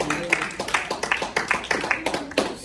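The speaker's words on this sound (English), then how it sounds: "Clap for Jesus." Congregation clapping along in church worship, a steady series of rhythmic handclaps, mid-distance, mixed with voices speaking or singing over it.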